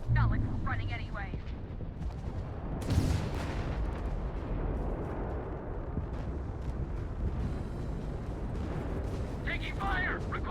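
Starship under weapon fire in Starfield during a Crimson Fleet versus SysDef battle, with dense rumbling blasts and crackling impacts throughout and voices shouting over the din.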